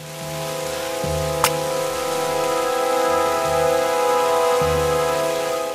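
Steady rain hisses in Tomb Raider Definitive Edition, a constant wash of falling water over low, droning game music with one brief sharp tick.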